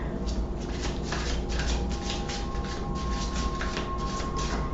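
Eloquy oracle cards are shuffled close up in a quick run of riffling, flapping bursts that continue steadily throughout, with no talk.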